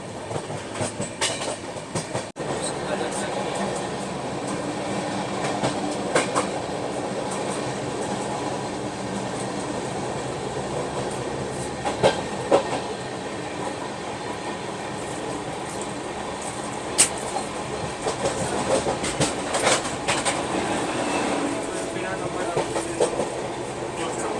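Express train in India running on rails at speed, heard from on board as a loud continuous rumble with rhythmic clickety-clack from the wheels and occasional sharper jolts, lasting throughout.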